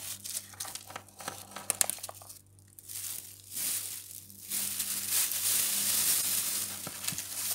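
Close-up crinkling of a torn plastic snack bag, with bursts of rustling and crackling separated by brief pauses, then a longer continuous stretch of crumpling.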